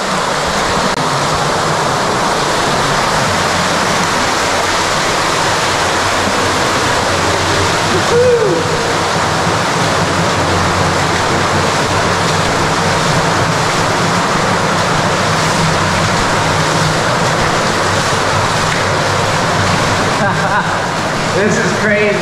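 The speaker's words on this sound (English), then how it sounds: "Got water rushing down a big pipe." Water rushing down a big sewer pipe, a steady loud roaring wash that fills the whole clip without pause, echoing and unbroken from start to finish.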